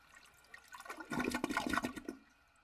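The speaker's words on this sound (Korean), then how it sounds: "빨갛고 걸쭉한 것이 소음과 함께 노즐에서 뻐끔뻐끔 쏟아져 나오고 있었다" A bidet toilet releases a rush of gurgling water that swells after a quiet start, churns loudly for about a second, then cuts off, heard close and alone without talking.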